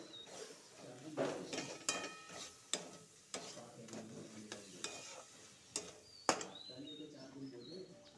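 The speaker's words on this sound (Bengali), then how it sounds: "এর সাথে ভালো করে ভাজবো।" Chicken and potatoes fry with ginger, cumin and coriander paste, a soft sizzle broken by scraping stirs and sharp clanks of a spoon against the pan, close and fairly quiet.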